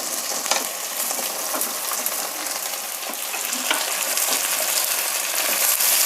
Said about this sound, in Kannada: ಈರುಳ್ಳಿನ ಸ್ವಲ್ಪ ಹುರಿದಾಯಿತು ಈಗ ಜಜ್ಜಿಟ್ಕೊಂಡಿರೋ ತೊಂಡೆಕಾಯಿನ ಇದರಲ್ಲಿ ಸೇರಿಸ್ತಾ ಇದ್ದೀನಿ